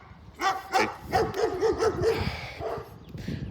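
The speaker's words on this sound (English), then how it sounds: "this dog is about to start barking" A dog barks in a quick run of about eight sharp woofs and yips, fairly close and loud, fading to a softer whine-like sound at the end.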